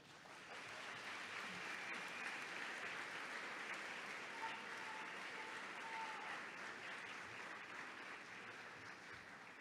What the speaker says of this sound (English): give your parents, family, and friends a round of applause for their support and their encouragement